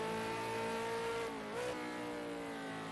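A V8 Supercar race car at Bathurst holds a steady, droning engine note with a brief dip and recovery, sustained and moderately distant.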